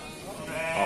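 A sheep at a livestock market in Banyumas lets out a single wavering bleat that swells and tapers within a second, against faint background noise.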